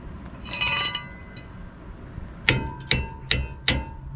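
A hammer strikes metal four times in an even rhythm on a 2002 Ford F150's rear brakes, each blow a sharp ringing clang, following a duller knock and some shuffling.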